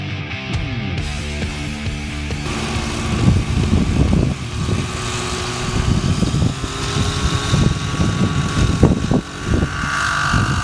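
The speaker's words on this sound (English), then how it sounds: "you can see that that engine is perfectly flyable, and you could stunt it actually in this sort of rich setup" An OS 105HZ R model helicopter engine runs on a rich setup, giving a loud, continuous buzzing drone with a rough, uneven pulsing character and a rising whine as the rotor spins up.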